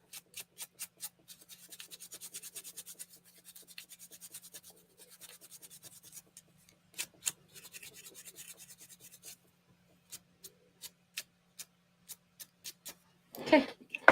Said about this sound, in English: I'm sanding, remove all the dust.